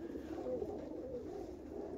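Pigeons in an aviary give soft, low cooing under a steady murmur of background noise, the calls faint and continuous rather than distinct single notes.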